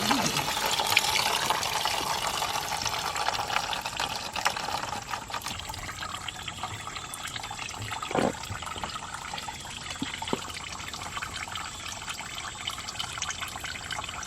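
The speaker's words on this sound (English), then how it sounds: "We're just going to drain it this way." Water drains steadily out of a unit through a drain, a continuous close rushing and trickling that runs throughout, with a brief gurgle near the middle.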